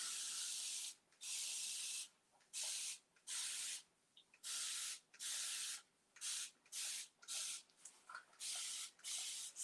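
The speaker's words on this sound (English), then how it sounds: "spray bottle." A hand spray bottle misting paint or water onto a painted room divider, about a dozen short hissing bursts in an irregular rhythm, close and fairly loud against a quiet room, no talking.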